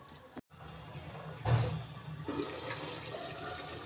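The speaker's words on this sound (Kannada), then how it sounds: "ನೋಡ್ಕೊಂಡು ಹಾಕ್ಕೊಳ್ಳಿ ನೀರು, ಅದು ಗ್ರೇವಿ ಕನ್ಸಿಸ್ಟೆನ್ಸಿ ನಿಮ್ಗೆ ಯಾವ ರೀತಿ ಬೇಕಂತ." Water poured into a pan of soya chunks curry gravy, a soft splashing pour that swells around the middle and then settles into a steady low trickle.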